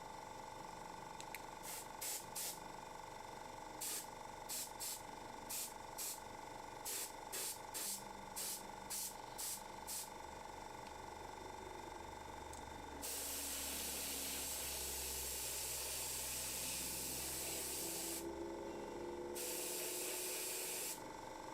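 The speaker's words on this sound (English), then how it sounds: "It's like this white requires airbrushing." Airbrush spraying white paint onto a Warhammer miniature: several short hissing bursts early on, then a long, steady, close spray hiss with a brief pause near the end, no talking.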